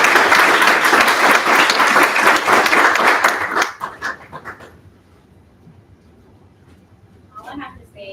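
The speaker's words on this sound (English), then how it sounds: "So give a round of applause for it." Loud, dense audience applause fills a hall at an intern symposium for several seconds, then fades to near silence before faint voices return at the end.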